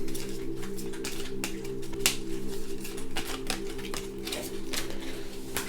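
Quick, irregular crisp flicks and taps of a stack of tarot cards being shuffled, a steady run of soft riffling clicks over a low background hum.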